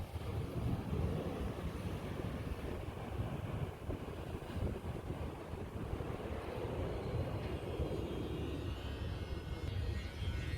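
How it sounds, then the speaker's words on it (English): Steady broadband roar of surf washing in continuously, loud and close, with a low rumbling undertone and no voices. "The waves crashing."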